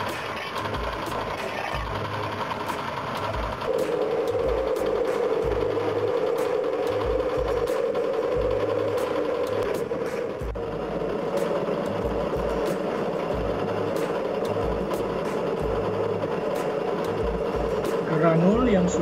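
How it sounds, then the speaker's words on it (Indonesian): Rotary dryer drying wet organic fertilizer granules, a constant loud mechanical drone and rumble with a steady hum throughout, with voices talking over it. "Produk berupa granul itu masih basah, karena itu dia harus kita keringkan di dalam roteri dryer."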